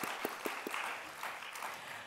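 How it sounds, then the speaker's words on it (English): Audience applause at an evening community event, fairly faint and distant, with a handful of distinct claps standing out from a soft, brief wash of clapping. "could we get another round of applause for Genesis B for her wonderful presentation"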